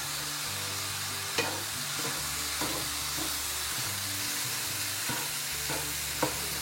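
Pasta tossed into a hot pan of sizzling mushrooms, a steady broadband sizzle with occasional sharp clinks and stirring scrapes, close and fairly loud, no voices.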